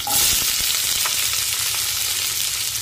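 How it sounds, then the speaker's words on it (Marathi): Onions with curry leaves frying in a pan over a medium flame, a loud, close, continuous sizzle with faint stirring and no talk. "आता हा कांदा हलक्या गुलाबी रंगावर परतून घेऊया"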